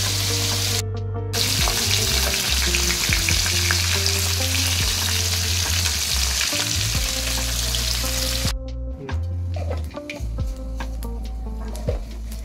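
Koi fish fry in hot oil in a kadai with a loud, continuous sizzle and crackle, broken by a few brief pauses and occasional stirring clinks close by.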